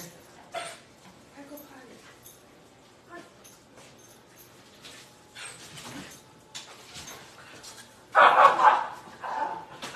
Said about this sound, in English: They always bark when they go outside.